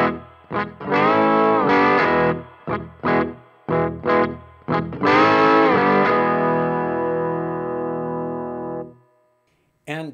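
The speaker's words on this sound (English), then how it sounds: "if you play the full chord, that sounds great too" Full chord strummed on a slide guitar, heavily distorted, ringing out in a series of choppy strokes before one long sustained chord that fades, played alone.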